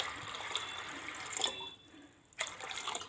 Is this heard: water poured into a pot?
yes